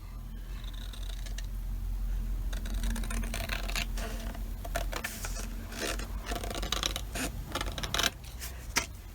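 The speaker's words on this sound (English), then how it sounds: "if it's not even, I'm just going to trim it." Scissors trim the edge of a large folded card for a scrapbook journal, giving a run of close, crisp snips and paper rustles over a steady low hum.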